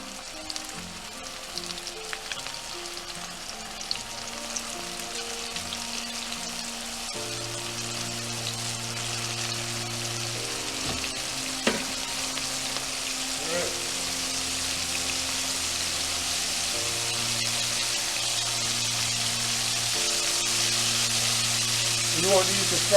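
Cubed steak fries in hot oil with a continuous crackling sizzle that slowly grows louder. Faint background music plays under it.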